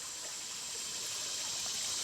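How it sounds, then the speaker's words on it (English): Creek water flows in a steady, soft rush and hiss, faint and continuous with no voices, at a woodland stream where a four-wheeler was washed off. "This is the creek that he was washing his four-wheeler off on."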